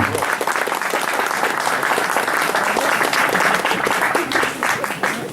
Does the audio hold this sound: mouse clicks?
no